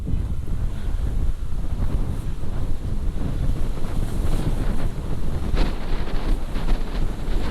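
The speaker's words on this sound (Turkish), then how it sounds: "Bayağı bir rüzgar var." Loud, continuous wind buffeting a microphone near Istanbul's Byzantine city walls, a dense rumbling roar with gusty bursts, waves or water faintly beneath.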